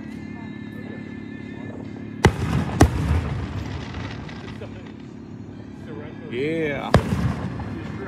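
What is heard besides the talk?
fireworks going off in the distance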